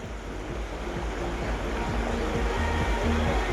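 Water rushes and babbles continuously at a steady level, filling the scene with broad, even noise and faint low thumps underneath.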